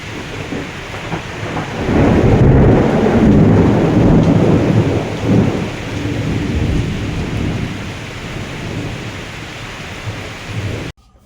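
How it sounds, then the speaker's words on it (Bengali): Heavy rain pouring steadily in a Kalbaishakhi (nor'wester) storm while deep thunder rumbles and rolls, swelling loud after a couple of seconds before cutting off abruptly. "বজ্র বিদ্যুৎ সহকারে ঝড়ও আছে, কালবৈশাখী শুরু হয়ে গেছে, প্রচুর বৃষ্টি হচ্ছে দেখুন"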